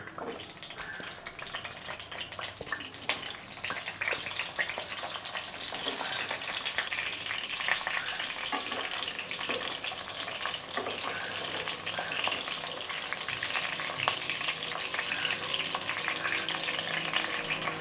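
Brinjal pieces fry in hot oil for a Tamil-style brinjal curry, a continuous close sizzle with crackling spatter and some stirring, no voices.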